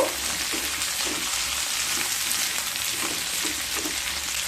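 Spiced pumpkin pickle cooking in a pan with a steady, close hiss and faint scraping taps from stirring throughout, no voices.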